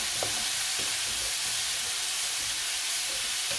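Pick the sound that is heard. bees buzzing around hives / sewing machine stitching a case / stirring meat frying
stirring meat frying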